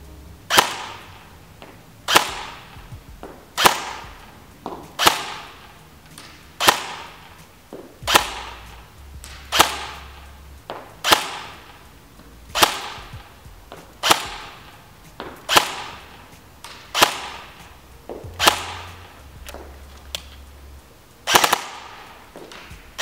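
A Beretta Umarex ARX 160 Sportline airsoft electric gun fires single shots at a 50-metre target, sharp loud cracks evenly spaced about every one and a half seconds, around fifteen in all, no talk.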